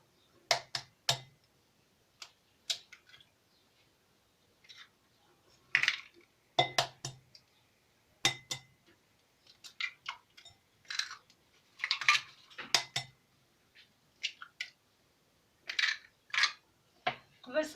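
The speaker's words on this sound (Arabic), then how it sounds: "غندير 3 ديال البيضات" Sharp taps and clinks sound as three eggs are cracked against a bowl for a lemon cake batter, scattered close knocks with shell snaps and brief pauses between them.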